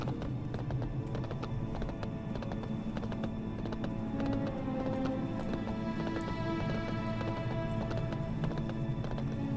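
Hooves of a horse ridden by a human hunter in World of Warcraft's Duskwood gallop in a steady, rapid clip-clop rhythm that runs unbroken throughout, moderately loud, under a low hum and with no speech.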